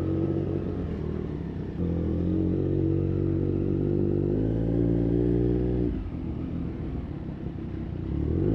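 A Triumph Street Triple 765 RS turning around on a New York City street, its engine giving a loud, steady, close rumble with a small rise in pitch partway through.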